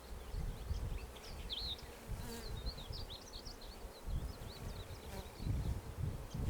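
Honey bees buzz steadily at an open hive during a colony installation, a dense low hum with higher wing whines flickering throughout at close range.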